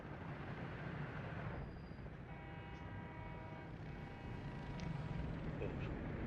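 Train rumbling in the game Workers & Resources: Soviet Republic, a low steady rolling drone with faint tonal whines over it, moderately quiet and continuous.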